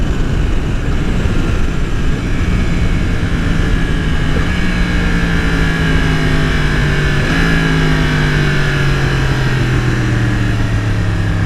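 A 2020 Yamaha R1 motorcycle engine runs loud and close, its steady high-revving roar dropping and jumping in pitch with each downshift, along with wind rush.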